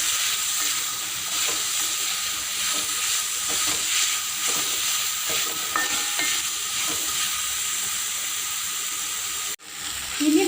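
Capsicum and pepper powder being stirred and sautéed in a pan while cooking a koorka curry, a steady frying sizzle with repeated spoon scrapes and stirs, close and continuous, ending in a brief clatter.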